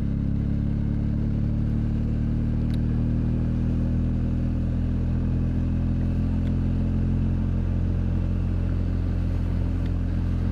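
A BMW R1250 GS Adventure in HP design rides home from the dealer, its boxer engine giving a steady, deep rumble with a low drone that holds constant throughout, unbroken by talk.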